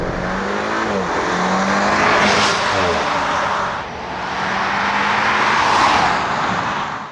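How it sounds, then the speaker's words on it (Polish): A 2017 Audi A5 Sportback 2.0 TFSI 252 hp quattro with a 7-speed S tronic gearbox accelerates hard, its loud engine rising in pitch and breaking at gear changes, where light exhaust pops may come through. "delikatnie strzela z wydechu podczas zmiany biegów."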